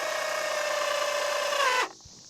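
A self-tapping screw driven in by a power driver while installing a water collection system, a steady high whine for nearly two seconds that stops abruptly, with no talk.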